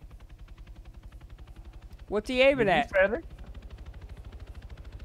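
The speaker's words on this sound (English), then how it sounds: "I hear another chopper going off." A military helicopter in the game Arma 3 flies nearby, its steady rhythmic rotor chop pulsing throughout beneath a voice in the middle.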